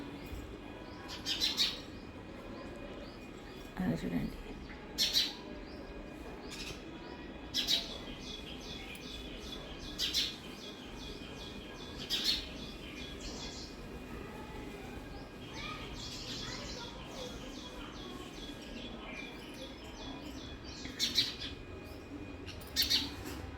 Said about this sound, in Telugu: ఇక్కడికే చెట్టు మీదనే చాలా పిట్టలు ఉన్నాయి ఇప్పటిదాకా వెరైటీగా అరిచినాయి